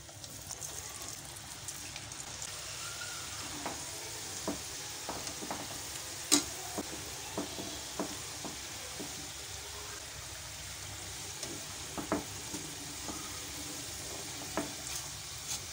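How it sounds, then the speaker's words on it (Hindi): French fries frying in hot oil give a soft, continuous sizzle and bubbling, with occasional louder pops and crackles scattered across the long take. "अब तेल गरम हो गया है, इसमें मैं डालती जाऊंगी।"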